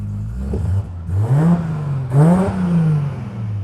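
A Toyota Supra engine revs up twice in quick bursts, rising in pitch and dropping back, loud and close with no voices.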